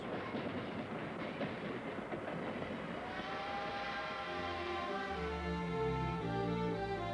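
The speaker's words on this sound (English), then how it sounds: "The sound of the train" A train rumbles and clatters past nearby, then its whistle sounds in sustained tones as the clatter continues.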